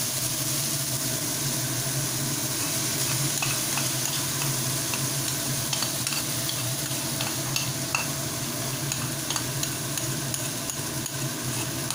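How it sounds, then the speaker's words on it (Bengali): Flat beans and potatoes sautéing in a pan over a low gas flame, a continuous dense sizzle with scraping stir sounds throughout and a low hum beneath; no speech. "শিম এবং আলুটাকে একটু সটে করে নিচ্ছি।"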